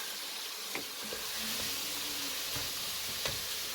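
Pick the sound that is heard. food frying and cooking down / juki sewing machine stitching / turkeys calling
food frying and cooking down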